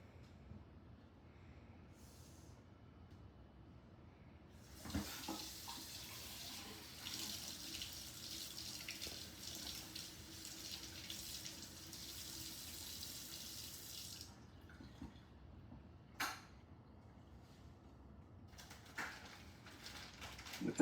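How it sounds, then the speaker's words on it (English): Tap water runs steadily into a kitchen sink while hands are washed during rib preparation, a broad hissing stream lasting about ten seconds with softer clinks and handling sounds before and after. "let me wash my hands here"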